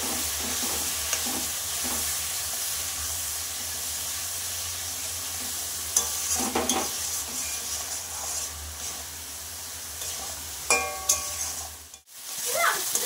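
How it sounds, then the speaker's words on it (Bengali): Spice paste with turmeric fries in a pan for a potato and rohu fish curry, a steady close sizzle with repeated scraping stirs and clinks, ending in a brief pause and a sharp scrape. "এবার আমি মশলাটা আর একটু ভালো করে কষিয়ে নেব।"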